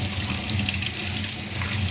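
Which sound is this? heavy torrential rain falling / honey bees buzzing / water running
water running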